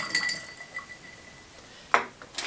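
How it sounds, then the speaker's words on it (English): A cocktail being stirred in a glass for a Valentine's Day cherry drink, heard as a few light clinks of a spoon and ice against the glass, with one sharper clink near the end, fairly close and otherwise quiet. "Now I just want to give it a quick stir to mix all those up."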